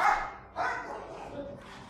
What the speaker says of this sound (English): Apparently, that's the sound of my dogs disagreeing.